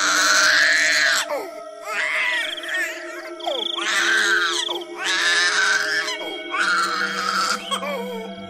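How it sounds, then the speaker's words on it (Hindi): A baby girl cries loudly in repeated wailing bursts separated by short gasping pauses, over a steady tonal background hum. "उसके रोने की आवाज उस चुड़ैल के कानों में पड़ती है।"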